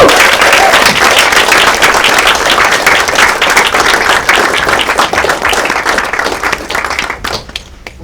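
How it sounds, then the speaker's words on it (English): Loud, dense applause from an audience at a film lecture, many hands clapping close and continuously before thinning and fading out at the very end. "Let's give her a round of applause."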